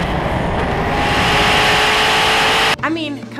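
A Hennessey Venom two-seat sports car roars at full speed on a runway during a 270 mph record run, a loud, sustained engine and wind rush that cuts off abruptly near the end, where a voice follows.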